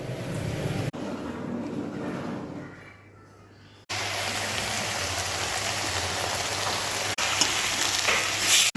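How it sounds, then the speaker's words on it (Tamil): Vegetables for mushroom momo filling sautéing in a pan, a steady close sizzle that drops away briefly in the middle, then returns just as loud, with no talking. "எல்லாத்தையும் லைட்டாக வதக்கி எடுத்துக்கலாம்."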